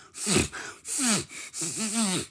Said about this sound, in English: you don't sniffle like this